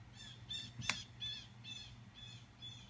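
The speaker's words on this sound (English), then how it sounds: "those are blue jays in the background" Blue jays call outdoors through an open screen door, a few harsh, raspy caws spaced across the moment, faint and distant over a low steady hum, with one sharper squawk standing out.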